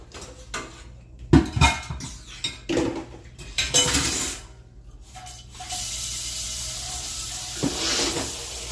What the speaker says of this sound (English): Now the fun is doing the dishes.